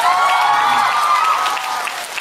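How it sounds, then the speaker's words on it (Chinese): A theatre audience cheers and screams with loud, dense, continuous applause at the curtain call of the musical 信, fading slightly toward the end. "所以这个再热烈的尖叫声掌声给到他"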